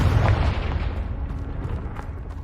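A Confringo blasting spell explodes in Hogwarts Legacy, a heavy low boom that rumbles on at high level through the whole moment, with no voices over it.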